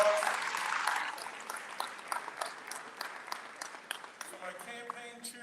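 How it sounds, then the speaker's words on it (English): Audience applause at a congressional town hall meeting, a brief burst of clapping for elected officials that thins quickly into scattered claps, with talk starting near the end. "Let's give our elected officials a round of applause."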